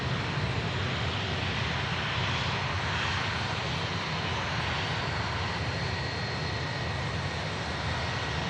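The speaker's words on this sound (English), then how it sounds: "Aer Lingus continuing its taxi" An Aer Lingus airliner taxiing at an airport, its jet engines giving a steady, loud broadband roar and whine throughout with no voices over it.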